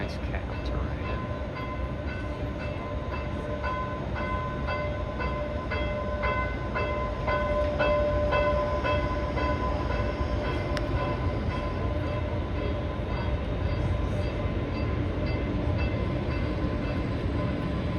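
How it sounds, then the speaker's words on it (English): A Denver tram rumbles steadily along its rails with a continuous mechanical hum and tonal whine, close by and fairly loud throughout, with faint voices mixed in. "Sort of smaller tram service to the city."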